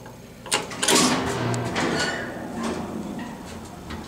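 A vintage Westinghouse elevator motor runs inside a university student union, a steady mechanical hum with clanking and sliding gear sounds, a louder burst early, then a continuous moderate drone.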